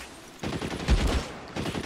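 Gunfire in the L.A. Noire video game, with a Thompson submachine gun in play: a dense burst of rapid shots, a brief pause, then another burst. It comes close and loud, with no talk.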